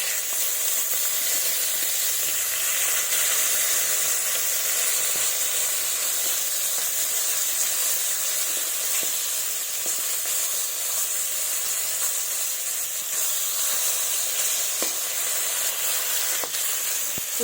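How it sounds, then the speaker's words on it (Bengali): Fish pieces fry in mustard oil in a pan, giving a steady, close sizzle with a bright hiss and occasional faint crackles. The sound stays even and unbroken throughout. "তো মাছগুলো আমি এবার ভেজে নিচ্ছি,"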